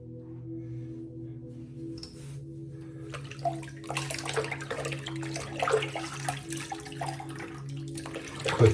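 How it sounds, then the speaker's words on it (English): A shaving brush is set down into water for soaking during a straight razor shave, bringing gentle splashing and trickling water over a steady background hum. "Put the brush down in the water, let it start soaking."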